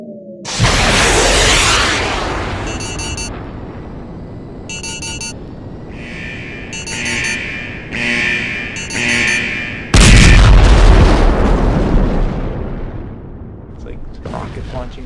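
Explosion special effects destroy a Terminator compound: heavy booms and roaring blasts with whooshing debris, interrupted by short electronic bursts, and a second big blast hits near the end.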